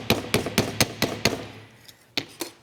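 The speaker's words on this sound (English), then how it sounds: "So I'm gonna hammer it." Sharp metallic hammer strikes on metal over a bench block ring out in a quick series of about six, then a pause and two more blows, close and loud with no talking.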